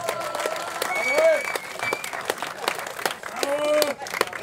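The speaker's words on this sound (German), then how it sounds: "Applaus für die Burschen." Crowd applause for riders at the Schöckl downhill mountain bike race in Austria, steady and fairly loud throughout, with an announcer talking over the clapping.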